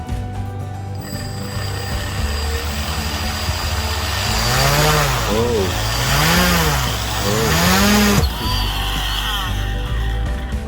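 A brushless DC quadcopter drone motor runs on a test setup, a loud whining drone that ramps up and down in pitch in repeated swells before cutting off abruptly near the end, with a steady mechanical hum underneath.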